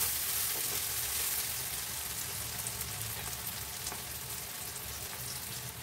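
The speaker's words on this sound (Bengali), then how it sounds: "পেঁয়াজটা একটু লালচে বাদামি করে ভেজে নেওয়ার পরে তারপরে এই পেঁয়াজ ভাজার মধ্যে দিয়ে দিচ্ছি লঙ্কার গুঁড়ো" Sliced onions fry with chili powder in a pan over low gas, giving a dense, steady sizzle with faint crackles and occasional stirring, heard close and alone.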